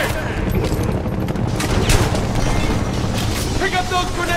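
Grenade explosions and rapid gunfire in the shooter game Homefront, a dense continuous barrage of booms and shots with sharp bursts, mixed with shouting voices in the battle.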